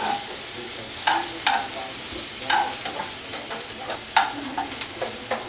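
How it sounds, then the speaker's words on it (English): Onions and food sizzling in a hot pan for a pepperoni polenta pizza, a steady close frying hiss broken by clicks and scrapes from stirring, with no talk. "Once you hear it sizzling, that means that it's cooking"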